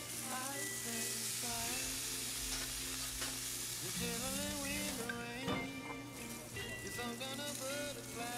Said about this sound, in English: And then we're going to get our steak on that grill.